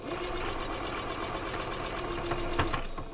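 A hand-cranked sewing machine stitches across a centre seam in a steady, close mechanical whir with a rhythmic knocking pulse, heard alone for a few seconds.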